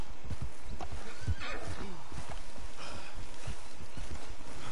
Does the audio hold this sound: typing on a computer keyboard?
no